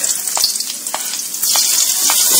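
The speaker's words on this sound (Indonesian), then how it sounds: "ini bumbu-bumbu tadi ditumis" Spice paste for sardines sizzling steadily in a hot pan, a continuous bright frying hiss with occasional soft stirring scrapes, close and fairly loud with no talk.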